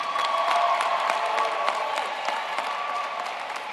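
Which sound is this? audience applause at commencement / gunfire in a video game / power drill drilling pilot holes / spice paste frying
audience applause at commencement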